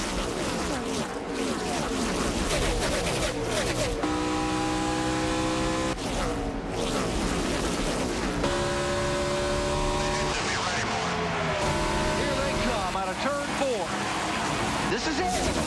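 NASCAR Nationwide Series race cars roar around the track at Texas, with loud engine pitches rising and falling as cars sweep past, while a voice talks over the racing.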